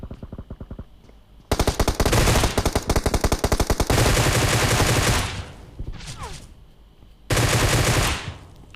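Rapid bursts of automatic gunfire ring out in the PUBG Mobile shooter game, loud sustained volleys with short gaps between them, close and dominant.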